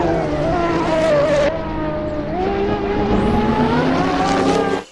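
A toy race car gives a steady, buzzy whine that rises and shifts in pitch, close and fairly loud, with no talking.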